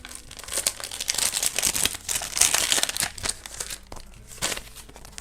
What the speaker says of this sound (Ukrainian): І сьогодні ми відкриємо пакетик з Мелоді.